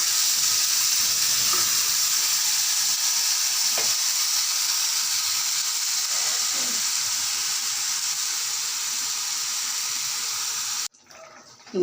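Ground spice paste sizzling loudly in a hot pan for rajma, a steady broadband frying hiss with a few soft stirring scrapes, cutting out abruptly near the end.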